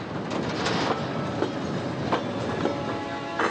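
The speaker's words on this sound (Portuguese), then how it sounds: "A carga segue de trem até o Porto de Santos em mais 3 dias e meio de viagem." A freight train hauling soybeans by rail toward the port of Santos, Brazil, rumbling steadily with repeated clickety-clack wheel beats and faint squeals, close and loud, with no voices.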